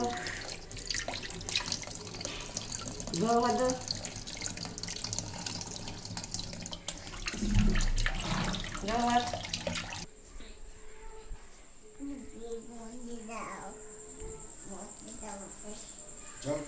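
A tap runs into a sink while hands are washed, a continuous splashing hiss with changing water flow, heard close under a child's and adult's voices talking throughout; the flow softens partway through.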